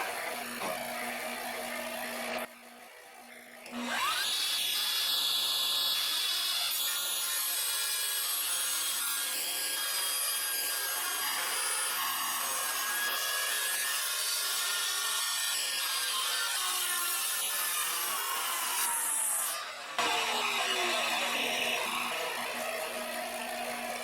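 A saw fitted with a wedge-cutting jig runs with a steady whine and cuts through wood in one long continuous pass, loud and near, with no one talking.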